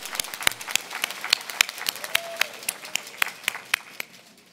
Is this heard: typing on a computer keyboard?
no